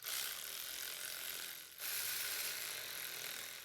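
A hand ratchet tightens starter motor bolts on a Toyota Highlander, a rapid continuous clicking of the pawl with one brief pause midway, close and fairly faint.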